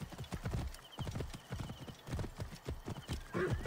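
Horse galloping in the video game Assassin's Creed Origins, a steady run of close, loud hoof clip-clops with an occasional whinny near the end.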